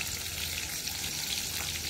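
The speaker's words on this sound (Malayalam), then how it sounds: "അടുത്തതും കൂടി വറുത്ത് കഴിയട്ടെ കേട്ടോ" Baby corn lollipops fry in hot oil with a dense, continuous sizzle that stays even and close throughout, with no voices.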